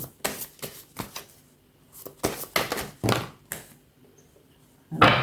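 Tarot cards shuffled and laid down in a series of short, crisp riffling bursts, close and fairly loud, separated by brief pauses, with a final sharper slap of a card near the end.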